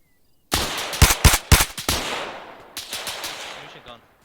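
Gunfire erupts in an Arma 3 military simulation firefight: a loud burst of several sharp, closely spaced shots, then a second quicker volley after a brief lull, with echoing tails rolling away into the distance.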